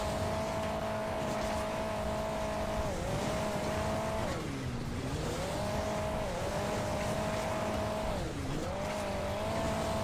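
Super diesel car engine in Hill Climb Racing 2, a steady loud game motor drone with a tonal whine that dips and recovers twice as the car lands and climbs, running continuously throughout.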